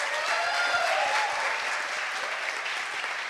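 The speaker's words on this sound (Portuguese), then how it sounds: "Recebam com a salva de palmas a ainda extraordinária secretária de Cultura, Marilande Brito." A round of applause at a state culture conference in Rio Grande do Norte greets the state culture secretary, a close, even wash of many hands clapping steadily from start to finish.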